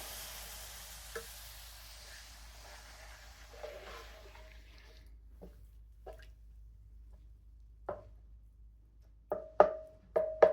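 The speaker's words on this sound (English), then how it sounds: "now I'm going to add some milk to turn it into gravy" Milk poured into sausage gravy in a hot pan, giving a faint sizzle and scattered drips, then louder sharp splashes and stirring clinks near the end, close by with no talk.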